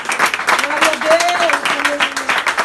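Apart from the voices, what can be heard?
church congregation applauding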